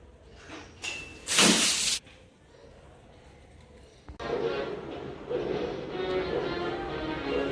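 A gas stove burner hisses steadily after being turned on in a home kitchen, a broad continuous rush that starts abruptly midway and holds at moderate loudness, following a brief louder burst of noise earlier.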